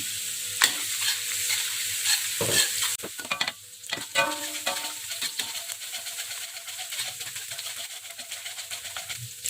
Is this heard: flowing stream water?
no